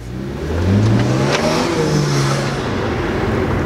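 A BMW with the N54 engine, rear gutted, accelerates at full throttle in drive, its engine note climbing loudly and steadily with a rising whine as it pulls hard for several seconds.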